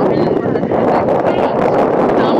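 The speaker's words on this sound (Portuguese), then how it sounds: "o vento tá super forte agora" Strong wind roars at a river beach, a loud, continuous buffeting rush across the microphone with no pauses.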